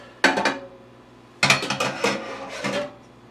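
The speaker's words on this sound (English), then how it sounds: "I'm going to go ahead and cut this steak up." Knife slicing through cooked steak on a cutting board, two short bursts of scraping and cutting strokes, close and fairly quiet, with no talking.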